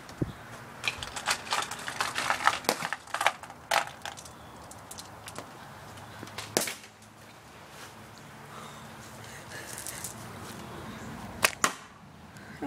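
Several sharp snapping shots from a Powerline B52 slingshot, a tight burst of cracks early on and a few isolated ones later, each a crisp whip-like release with light impact clatter, fairly close over quiet outdoor background.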